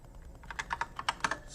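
A password is typed on a computer keyboard, about ten quick, light key clicks in an uneven rhythm, close and quiet with no talk.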